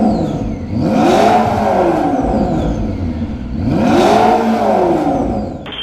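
A McLaren P1 with a QuickSilver titanium exhaust revving loudly up close, two rising and falling blips with a clear pause between them, the engine idling in between.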